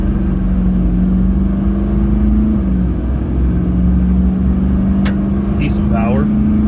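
A 2009 Duramax LMM diesel pickup towing a load pulls hard from a stop toward 60 mph, a loud, steady low engine drone heard from inside the cab with a short pitch shift midway, and a person's voice near the end.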